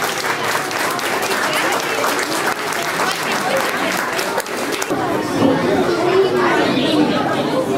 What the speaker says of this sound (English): let's give these guys nice and ladies nice round of applause